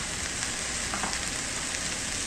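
Cashew pieces frying in hot oil in a pan for a coconut milk pulao, a dense, continuous sizzle and crackle close up, steady throughout with no pauses.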